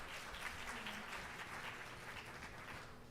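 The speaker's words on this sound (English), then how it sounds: "round of applause for the Middle East" Conference audience in Dubai applauds, a steady, even crackle of many hands clapping together, heard from a distance and fairly faint, lasting the whole stretch.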